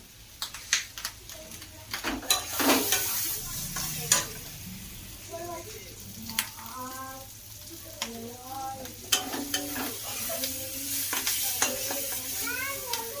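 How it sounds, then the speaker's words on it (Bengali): Fish frying in a wok on one side of the stove while a second pan cooks spicy fish curry, giving a steady close sizzle broken by sharp scraping and stirring clatters, with a faint voice in the background. "দুটো দু কড়াইতে দুদিকে মাছ হচ্ছে এটা হচ্ছে মাছের ঝাল আর এই যে মাছ ভাজা"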